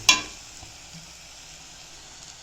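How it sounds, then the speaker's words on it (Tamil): Bitter gourd sautés in oil in a pan, a sharp crackle at the start settling into a steady, quiet sizzle with no talking. "நம்மளோட பாவக்காய் கரமதி எண்ணெய் பிரிஞ்சு சூப்பராக நல்லா வதங்கிடுது"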